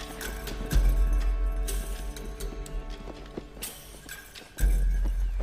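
Horse hooves clip-clopping in a TV drama scene, a few close, uneven hoof thuds with a heavier stomp near the start and again at the end, moderately loud over quiet background.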